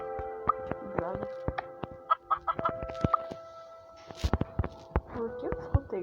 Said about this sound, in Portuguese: Por que eu escutei galinha?